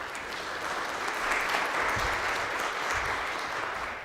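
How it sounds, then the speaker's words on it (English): An audience at a law symposium applauds steadily for about four seconds. The clapping is dense and sustained, with no talk over it. "Please give a round of applause for Nick Mira."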